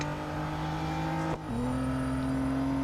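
Race cars overtaking in Real Racing 3: a continuous loud engine drone, one car briefly cutting out before the pitch drops and a steady, lower engine tone carries on.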